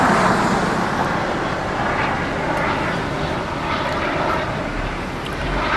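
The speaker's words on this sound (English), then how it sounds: "there's a helicopter" A police helicopter flies overhead on a city street, a steady broadband engine and rotor drone holding at moderate, even loudness throughout with passing traffic noise mixed in.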